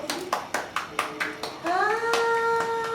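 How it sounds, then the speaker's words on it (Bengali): Hands clapping at a child's fourth birthday party, a steady run of sharp, evenly spaced claps close by, joined partway through by children's voices singing or calling over them. "হাততালি দি হাততালি দি হাততালি দি হাততালি দি"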